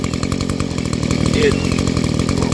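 A two-stroke engine idles at about 2700 rpm, holding a steady, buzzy, chainsaw-like drone with rapid regular firing pulses throughout the short stretch, close and fairly loud.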